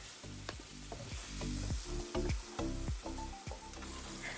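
Chicken karahi paste stirred in a hot pan, with sizzling frying and repeated scraping stir strokes close up, fairly quiet, with no talk.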